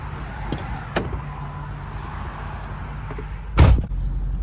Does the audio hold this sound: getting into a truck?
yes